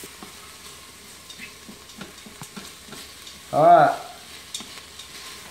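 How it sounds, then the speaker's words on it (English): Onions and mushrooms sautéing after bacon in an Instant Pot, a soft sizzle with occasional stirring clicks and a short spoken phrase partway through. "now I'm sauteing some onions and mushrooms"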